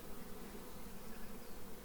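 A dense, steady hum of many Carniolan honeybee drones buzzing close by in a hive, continuous and even with no voices.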